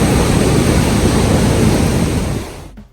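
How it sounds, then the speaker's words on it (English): Ocean waves wash onto a beach in Tulum, Mexico, in a loud, close, continuous rush of surf mixed with wind buffeting the microphone, fading out near the end with no voices. "Look at the beach."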